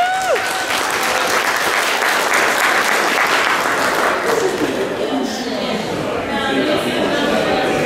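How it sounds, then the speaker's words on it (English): A convention panel audience breaks into loud, sustained applause with a brief cheering shout at the start, dense clapping filling the room before easing slightly near the end. "Can we give them a round of applause, everyone?"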